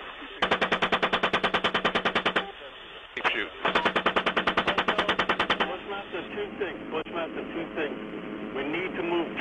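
Rapid bursts of automatic gunfire from firearms during a combat engagement, two long rattling strings of shots, with a sparser, ragged stretch of shots after them, loud and close, and voices heard faintly beneath.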